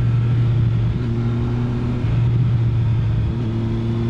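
A Triumph Street Triple R motorcycle engine idles with a low, steady burble, close and fairly loud throughout with slight shifts in pitch and no speech.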